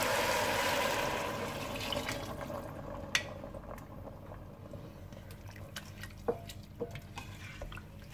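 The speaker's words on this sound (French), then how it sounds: "Je viens verser 1 litre d'eau dans lequel j'ai fait diluer mon bouillon de légumes." A litre of water with dissolved vegetable stock is poured into a cooking pot for sausages and lentils, a steady gush that tapers into light drips and splashes, close and clear.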